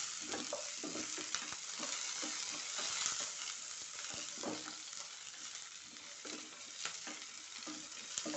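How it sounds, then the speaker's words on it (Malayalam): Potatoes and curry leaves sautéing in a pan for Palakkad-style potato masala curry, a steady, close sizzle with soft scraping stirs throughout and no voices. "നമുക്ക് കുറച്ച് കരിവേപ്പില ഇടാം ഇത് നന്നായിട്ട് വഴറ്റിയെടുക്കാം"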